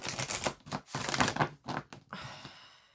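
Tarot cards being shuffled by hand, close and quiet: a fast run of papery riffling flutters and slaps in short bursts, fading into a soft hiss at the end.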